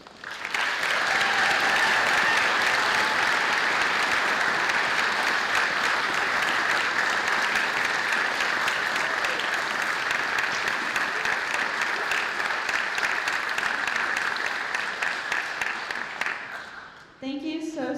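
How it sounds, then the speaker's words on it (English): A large audience at a school concert claps in sustained, loud applause that holds steady, then tapers off near the end. "give Mrs. Kuhn a round of applause"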